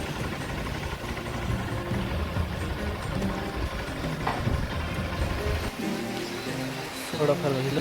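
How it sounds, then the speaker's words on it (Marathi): Steady rain falling outdoors near a hill fort and farm fields on the way home, a continuous patter with an engine-like hum under it and a few brief voices near the end. "घरी जाता जाता पाऊस आलाय"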